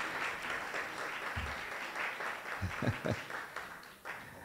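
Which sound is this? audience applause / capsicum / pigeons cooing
audience applause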